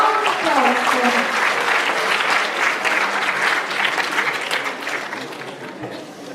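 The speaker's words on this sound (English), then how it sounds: "Please give a round of applause for him." Audience applause for a lucky draw winner at a festival event, loud dense clapping that holds steady and then slowly fades toward the end.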